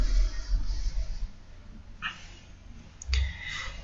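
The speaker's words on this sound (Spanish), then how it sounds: "Le damos clic" Computer mouse clicking at a desk: two brief, faint clicks spaced about a second apart over a quiet background hum.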